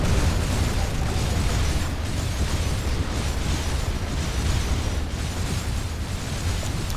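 Explosions from bombers blowing up inside an enemy base in the strategy game Planetary Annihilation, a dense, continuous rumble of blasts and bursts that stays loud and steady throughout, with no talking.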